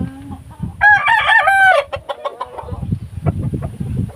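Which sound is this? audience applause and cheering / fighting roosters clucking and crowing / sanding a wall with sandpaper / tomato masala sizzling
fighting roosters clucking and crowing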